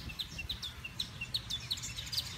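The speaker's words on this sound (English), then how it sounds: "You can hear the birds. That tree right there is full of birds now." Small birds chirp from a tree in Punta Cana, Dominican Republic, in quick repeated high notes, fairly faint and a little distant, over a low background rumble.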